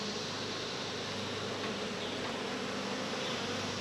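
Honeybees buzzing densely around a beekeeper working an open hive, a constant close swarm drone with no breaks or talking.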